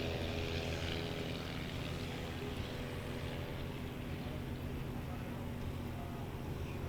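A Piper Cub's propeller engine drones steadily at a distance during short takeoff and landing practice in Jennings, Louisiana, a constant buzzing hum with no breaks.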